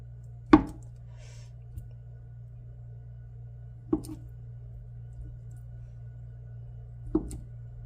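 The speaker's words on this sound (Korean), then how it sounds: "이렇게 두부 반모를 이렇게 썰으셔가지고" Knife cutting through half a block of tofu in a home kitchen while making squid soup, three soft, isolated chops spaced a few seconds apart over a steady low hum, close and fairly quiet.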